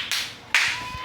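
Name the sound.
forced applause, hands clapping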